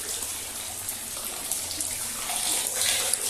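Rainwater runs from a pipe into a large cistern, a close, trickling splash and gurgle of flowing water that swells slightly toward the end.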